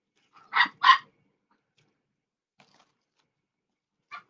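A dog gives two sharp, close barks in quick succession, followed by a long quiet stretch and a single faint short bark near the end.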